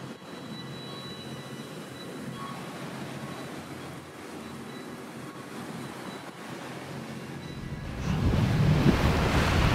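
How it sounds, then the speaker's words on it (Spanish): Huge ocean waves roll through the Drake Passage beneath steady wind and a constant mechanical rumble, the roar surging louder and rougher toward the end as a big swell crashes. No voices. "ahora sí son tremendas las murallas de agua que se forman"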